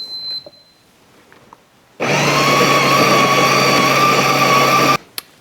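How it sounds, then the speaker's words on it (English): A Ninja Luxe Café Pro ES701 espresso machine's built-in grinder grinds coffee beans, starting abruptly with a loud, steady high-pitched motor whine that holds for about three seconds and cuts off sharply. Quiet room before and after. "Now I'm just going to press start grind."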